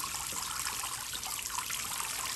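A child splashes water in a bath, a steady bright rushing and trickling that fills the whole stretch at close range with no talk.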